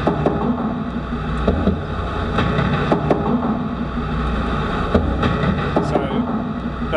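Dense, steady road rumble from a car crossing the Story Bridge, with scattered knocks and thumps from the expansion joints rising through a constant roar.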